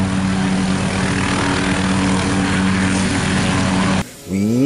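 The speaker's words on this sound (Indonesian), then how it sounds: "Ini adalah mainan helikopter warna biru teman-teman, atau helikopter blue color" A blue toy helicopter flies with a steady, loud motor and rotor whine, holding an even tone for about four seconds before cutting off abruptly.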